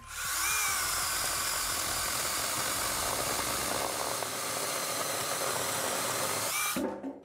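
APROTII battery-powered mini chainsaw with lubricated chain cutting through wood, a steady loud high-pitched whine and buzz held for several seconds before the motor cuts off abruptly near the end.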